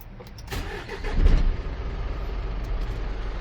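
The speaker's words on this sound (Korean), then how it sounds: "엔진 소음 아주 좋고요" The diesel engine of a 2019 Hyundai Mighty 2.5-ton truck runs close by, a low rumbling idle that swells briefly before settling into a steady throb.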